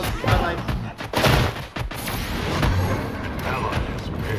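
Gunfire in the video game Predecessor rattles out in dense, loud overlapping bursts amid chaotic battle noise, continuing without pause.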